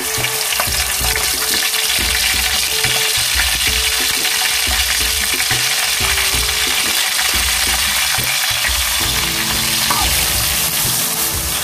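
Chopped onion and green chilies fry in hot oil with a loud, dense sizzle that runs unbroken. Light stirring and scraping sounds from the pan recur throughout. Heard close up, with no voices.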